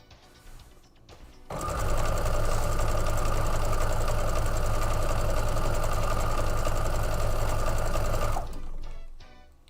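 A sewing machine stitches quilt fabric in one long, steady, fast run of mechanical chatter close by, starting abruptly and stopping after several seconds, with quiet room sound before and after.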